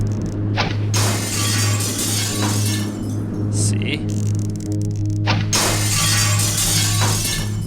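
A broadhead arrow strikes and shatters a glass window pane in a video game, giving several sharp crashing bursts over a steady electrical hum while someone talks throughout.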